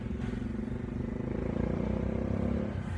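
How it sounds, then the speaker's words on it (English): Motorbikes run along a rural road in the Victorian High Country near the Dargo store, a steady, fairly loud engine drone with some clatter that builds slightly through the three seconds, with no talk over it. "Which way are those motorbikes going?"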